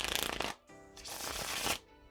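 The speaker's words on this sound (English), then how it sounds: "Now, when you do something like a riffle shuffle" Clear plastic playing cards are riffle shuffled, a bright crackling burst of flicking cards, a brief pause, then a second longer riffle, close and crisp with no voices.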